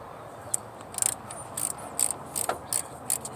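A ratchet clicks in quick, faint, uneven bursts as a Torx bit loosens the throttle position sensor screws on a 1988–2000 GM C/K truck, close by over a low hum with no talking.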